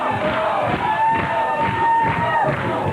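A wrestling crowd cheering and shouting in an arena, a sustained roar of voices with swelling cheers, loud and continuous.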